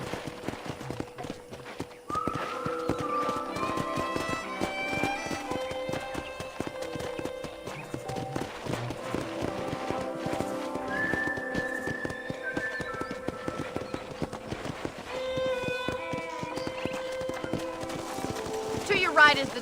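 Horse hooves clip-clop steadily over a bed of music at a ranch in the video game Red Dead Redemption, with an occasional whinny rising above the rhythm.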